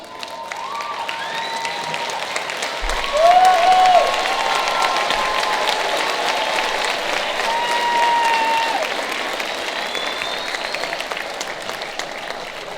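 Sustained applause from a school ceremony audience for graduating 8th grade students at a Northeast Middle School moving-up event, steady clapping throughout with a slight swell near the start and middle, a few cheers mixed in.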